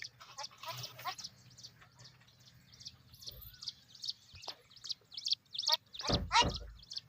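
A young goat kid on a farm bleats in short, wavering calls that grow louder and closer toward the end, with hens and small birds chirping faintly in the background.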